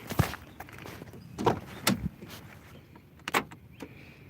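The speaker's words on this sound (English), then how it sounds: "Let me lock my car." Someone locks a parked car with a few separate clicks and clunks of the doors and lock mechanism, close by, amid faint footsteps and background noise.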